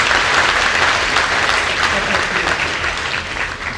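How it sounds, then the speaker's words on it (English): Dense, steady audience applause fills a large hall at a youth employment event in Limpopo, loud and sustained throughout with a faint murmur of voices underneath. "Can we give the trucking companies and SEZ a round of applause for bringing us 60?"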